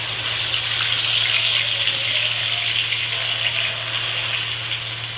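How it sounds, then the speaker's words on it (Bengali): Marinated hilsa fish sizzles steadily in hot oil with onions, a continuous close frying hiss over a low constant hum, with no talk. "ওই তেলের মধ্যেই আমি ম্যারিনেট করা মাছটি আমি এর মধ্যে দিয়ে দিলাম"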